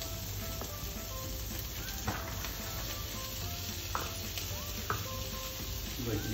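Vegetables for fried rice sizzle steadily in a hot pan, with scattered clinks and scrapes of stirring over a continuous frying hiss.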